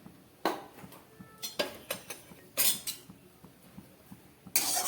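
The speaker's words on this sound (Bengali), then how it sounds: "এইবার তেলটাকে আমি খুন্তির সাহায্যে নেড়ে একটু ছড়িয়ে দিলাম কড়ার চারিদিকে" A metal spatula scrapes and taps around a hot wok as a little oil is spread for a mixed-vegetable ghyat, giving a series of short, close clinks and scrapes with quiet gaps between them.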